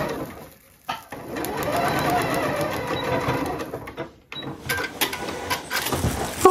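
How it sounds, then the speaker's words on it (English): A sewing machine stitches a seam around a fabric mason jar cozy in quick, steady whirring runs, pausing briefly twice before starting up again, close and clear. "I'm going to stitch this so that the cylinder, or so that my presser foot is inside of the cylinder."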